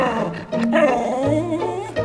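A pet dog gives short growls and yips in a Spanish film scene, with whimpering tones and a low rumbling growl, close and fairly loud.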